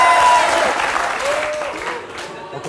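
A TV talk-show studio audience bursts into applause on a warm-up man's cue, loud dense clapping that gradually tapers off while voices sound faintly underneath.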